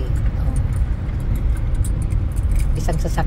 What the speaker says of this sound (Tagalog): Isang sasakyan pa lang ang dumaan